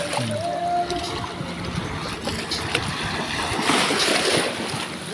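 Sea water sloshes and splashes against rocks close by against a constant windy wash, building to a louder surge near the end.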